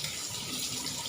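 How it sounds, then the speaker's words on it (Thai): Warm running water rinses the slime off blanched catfish, pouring in a steady, close hiss with no voices over it. "ล้างเหมือกมันออกสะอาด"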